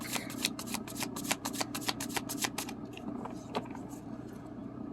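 A deck of tarot cards is shuffled close up in quick bursts of crisp riffling clicks, dense at first and then sparser, over a quiet room background.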